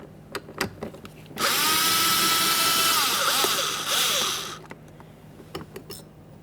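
A power tool whirs for about three seconds while backing out a 10mm mounting bolt inside the door of a 2009-2014 Nissan Maxima. The motor whine is close and loud, rising then dipping, with faint clicks of handling before and after.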